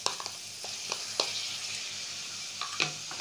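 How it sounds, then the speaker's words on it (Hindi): Whisked yogurt fries with spices in a pan, giving a steady close sizzle broken by light scrapes of a spoon stirring every half second or so. "इसे अच्छे से मसालों के साथ भुनेंगे"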